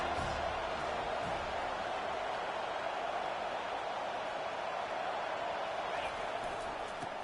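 A college football stadium crowd roars on a big third down as fans get behind the defense, a steady, dense wall of cheering noise that holds at the same loud level throughout, with a commentator's voice faintly present.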